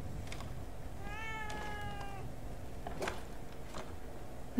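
A cat in The Evil Within 2 meows twice, a drawn-out clear meow followed by a shorter one, heard up close over a low game ambience with no talking.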